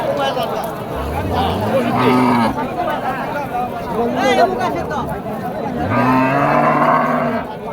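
A red cow moos repeatedly at a busy cattle market, long low calls rising over constant crowd chatter and nearby voices.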